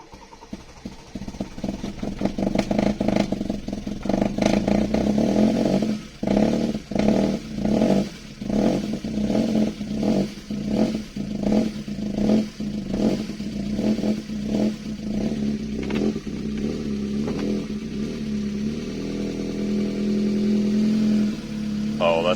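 Toyota 2E engine with a TRD camshaft running close by, a steady idle with a busy ticking valve clatter and repeated revs rising and falling throughout.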